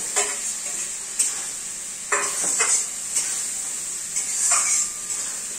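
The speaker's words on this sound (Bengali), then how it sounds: "দেখো আর একটু জল দিয়ে দিই। তার সাথে যে ভেজে রাখা আলুগুলিও দিয়ে দিই।" Water and pre-fried potatoes going into a pan of sizzling spice paste, making a steady hiss and frying crackle with several scraping stirs and soft utensil knocks, close up and with no talking.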